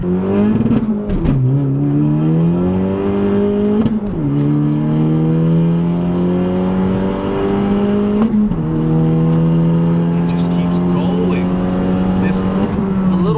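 A 10th-generation Honda Civic Si with full bolt-ons and an upgraded turbo pulls hard through the gears, its loud engine note climbing steadily and dropping sharply at each of about three shifts, with brief voices from inside the car.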